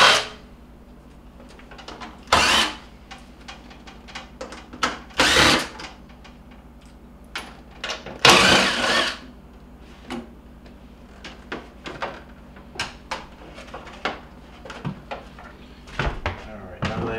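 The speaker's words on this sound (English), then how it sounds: "I'm going to go ahead and remove the cover" A power driver whirs in short, loud bursts while the back cover panel of a GE refrigerator is removed, mixed with clunks and light handling knocks of the panel and screws up close.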